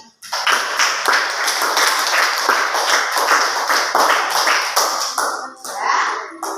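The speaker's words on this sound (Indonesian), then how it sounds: "Beri tepuk tangan lagi" Classroom audience at an Indonesian school lesson giving a round of applause, a sustained burst of close, dense hand clapping that continues for several seconds before tapering off.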